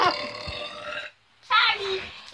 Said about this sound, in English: Sorry, I was burping up.